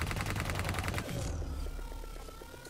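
Rapid gunfire from Call of Duty: Black Ops 3 bursts in a loud, dense volley for about a second, then fades into a quieter rattling tail of scattered shots.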